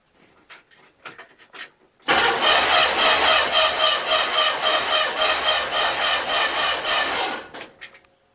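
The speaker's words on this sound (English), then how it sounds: "that starter sounds terrible" The starter cranks a big block Chevrolet C10 engine during a cylinder compression test, sounding rough and labored. It is a loud rhythmic churning that runs about five seconds after a few quiet clicks, then stops abruptly.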